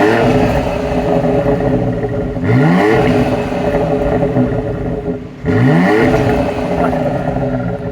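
A 2025 BMW X4M in Toronto Red idles with a rough, rumbling exhaust, then revs sharply twice in quick blips, each rising whine falling back to a steady idle, loud and close.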